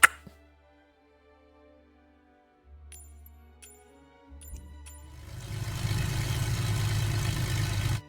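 An aircraft engine in MS Flight Simulator 2024 starting up after a few quiet clicks, first a low rumble and then a loud, steady droning run that builds and holds to the end.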